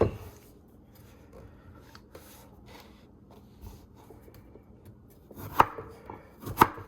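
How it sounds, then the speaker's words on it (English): A knife slices through hard sweet potatoes on a board, with quiet scraping followed by two sharp, close chopping knocks near the end. "this is one of the hardest veggies to cut up"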